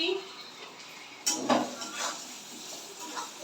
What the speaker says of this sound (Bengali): এবার আবার একটু নাড়াচাড়া করে নিচ্ছি।